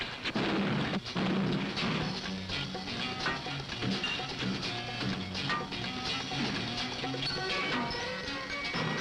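Remington rifles are test-fired in a factory, a dense, continuous clatter of overlapping gunshots and mechanical rattling that stays loud throughout with no pauses, all inside an echoing industrial space.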